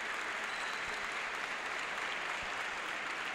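A crowd at a women's basketball game between Quimsa and Club Tenis La Paz applauds, a continuous even roar of clapping from a large arena audience with no single voice standing out.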